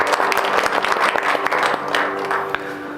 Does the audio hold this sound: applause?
yes